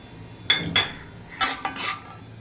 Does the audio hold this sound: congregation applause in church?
no